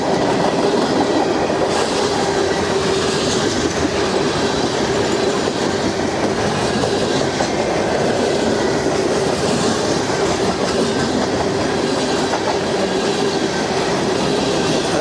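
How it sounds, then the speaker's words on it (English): CSX M647 freight train rolls south on the Henderson subdivision near Breton, Kentucky, a steady loud rumble of cars with clickety-clack wheel noise and faint squeal, continuous throughout with no talk. "CSX M647 heading south on the CSX Henderson subdivision from Breton"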